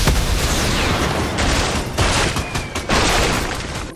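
Loud explosive blasts and roaring bursts from a rocket ram weapon firing in Fortnite, several heavy impacts layered over continuous rumbling noise.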